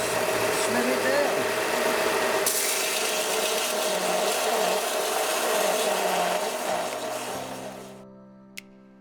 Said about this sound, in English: So I've got a little belt sander here.